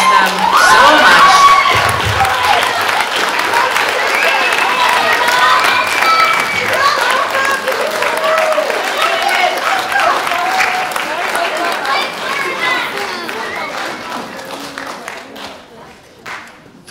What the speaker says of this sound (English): Folks, as we are giving everybody a round of applause